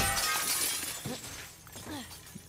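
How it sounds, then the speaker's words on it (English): Glass window shatters with a bright, crashing burst in The Last of Us Part 2, the sharp breakage fading quickly into scattered tinkling debris. "there's a window over here. I'll just break through it."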